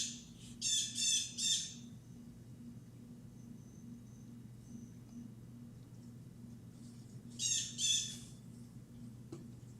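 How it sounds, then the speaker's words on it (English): A bird calls just outside a window: two short bursts of shrill, rapid chirps several seconds apart, heard over a steady low indoor hum with no talking. "There's a bird right outside my window."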